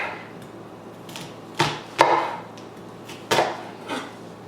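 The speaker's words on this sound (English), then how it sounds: "I'm also cutting it this way. I like my onions to be quite small" A knife chopping a small-diced onion on a cutting board, a handful of distinct, irregularly spaced crisp knocks close up in a quiet kitchen.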